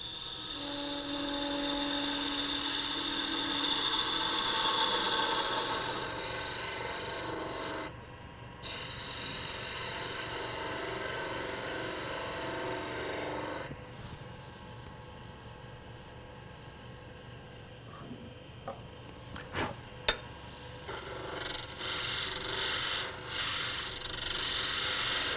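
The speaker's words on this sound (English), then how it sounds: "now I'll switch to a spindle detail style gouge. Refine this cove." A wood lathe spins a gimbal clock blank while a spindle detail gouge refines a cove, giving a whirring, scraping hiss that starts and stops in sections, with a few faint taps and knocks.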